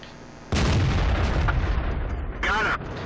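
The Dicker Max tank destroyer fires its gun in World of Tanks on the Steppes map: one sudden, loud boom followed by a rolling rumble, with a voice talking over it.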